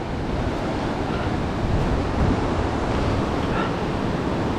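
High, fast river water rushes loudly through the Ohiopyle gorge below the Great Gorge Trail, a dense, unbroken roar close by with wind buffeting the microphone.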